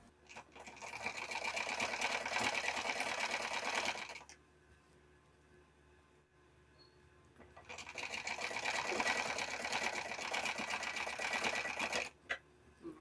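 Domestic sewing machine slowly stitching a blouse, running in two bursts of rapid close mechanical whirring with a quiet pause between, ending with a couple of short clicks.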